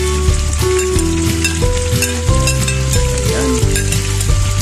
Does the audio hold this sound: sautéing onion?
yes